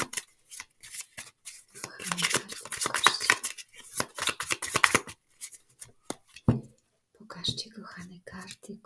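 Tarot cards being handled and shuffled, with papery riffling bursts close up that come and go in irregular runs, while a voice whispers between and over the shuffles.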